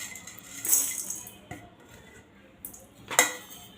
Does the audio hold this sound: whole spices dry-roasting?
yes